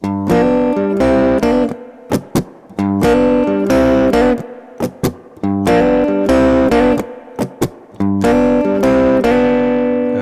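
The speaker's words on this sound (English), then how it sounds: "This one I'm calling a Chicago double stop rhythm" Electric guitar chugs a Chicago blues double-stop rhythm riff in steady shuffle chunks, loud and close, with short gaps between phrases and no voices.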